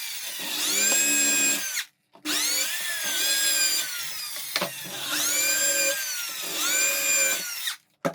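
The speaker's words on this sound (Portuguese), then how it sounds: "Agora então eu vou furar e parafusar elas aqui." A power drill drives screws into MDF strips, a high whining spin in long bursts with two brief pauses between runs, close and loud, no talk.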